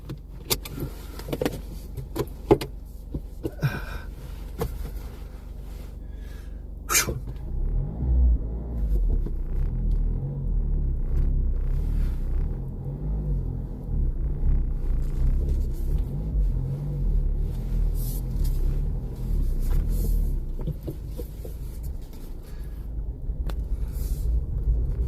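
A car in Cagliari, Italy, first a few clunks and rattles of getting in, then the engine starts and a steady low rumble of driving fills the cabin, continuous and close.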